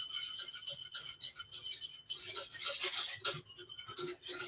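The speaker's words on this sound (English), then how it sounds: "whisk it all up" A whisk scrapes briskly around a pan of spiced sauce, a continuous raspy rubbing with rhythmic strokes that grow busier and louder toward the end, close and alone.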